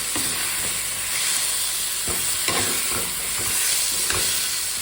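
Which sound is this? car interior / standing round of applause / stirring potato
stirring potato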